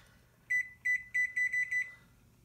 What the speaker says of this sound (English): So I'll put my timer on.